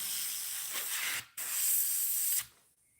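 An aerosol can sprays light yellow coats of paint onto a musky crankbait lure in short hissing bursts, close and fairly loud, separated by a brief pause and ending in silence.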